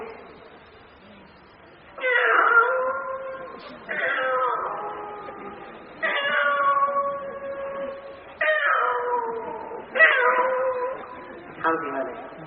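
A human voice imitates a cat begging for food, producing about six drawn-out, wavering meows in a row, each separated by a short pause.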